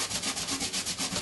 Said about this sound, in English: Let's just rub away some of this masking fluid that we put on earlier.